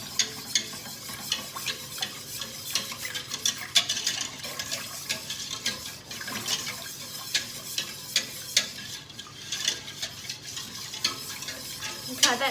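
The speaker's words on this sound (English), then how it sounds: "The whisk breaks up all the lumps, otherwise you'll end up with a big lumpy sauce." A whisk scrapes and clatters against a pan while breaking lumps out of a white sauce for beef lasagne, quick repeated metallic strokes over a soft sizzle, close and fairly quiet, with no talking.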